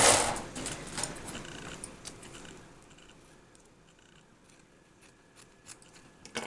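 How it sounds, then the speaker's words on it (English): Scissors snipping through card stock while a handmade vintage greeting card is made, a brisk cut at the start followed by quieter intermittent snips close by, with no talking. "I'm just going to cut"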